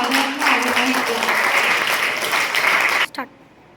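Audience applause at a school academic carnival as a ninth-grade student comes to the stage, steady, fairly close clapping with a faint tonal hum underneath that cuts off abruptly after about three seconds.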